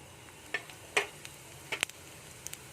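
Cumin seeds dropped into hot oil, giving a handful of sharp, scattered crackles and pops over a faint low hiss, close by and brief.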